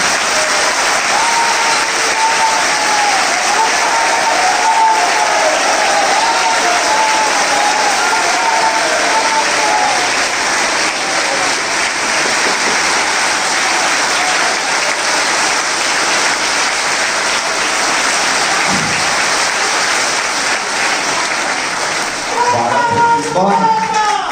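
Audience clapping continuously at a Jain religious discourse in Indore; loud, unbroken applause from a large gathering carries on for the full stretch, with a brief voice rising near the end.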